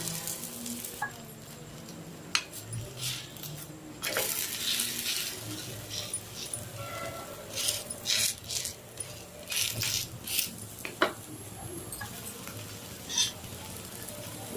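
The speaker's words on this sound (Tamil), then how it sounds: "இப்போ சப்பாத்தி போட்டுட்டு சுற்றி ஆயில் விட்டுருங்க." Oil sizzling around an aloo paratha frying on a hot pan, a soft steady crackle with scattered clinks and scrapes of utensils, fairly quiet.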